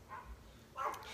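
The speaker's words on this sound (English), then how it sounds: "I apologize for the dogs barking in the background" Dogs bark in the background of a home, two brief muffled yips spaced apart, faint and distant with no talk over them.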